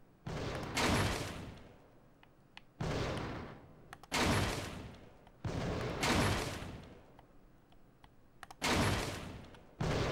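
Gunfire in the video game Fahrenheit comes in five loud bursts of rapid shots, each fading into a rumbling tail before the next one starts.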